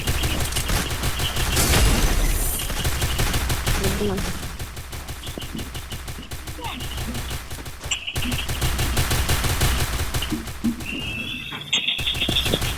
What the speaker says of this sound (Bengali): শালা তো ফায়ার করছে শালা